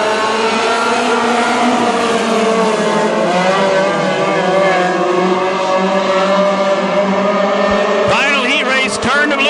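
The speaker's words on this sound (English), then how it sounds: "we're ready to go green" Race cars roar steadily at a dirt-track speedway heat race as the field takes the green flag, engines loud and sustained throughout, with a public-address announcer talking over the din.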